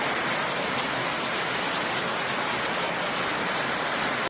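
Heavy rain falls in a steady, dense roaring hiss, close and loud throughout, with no voices over it.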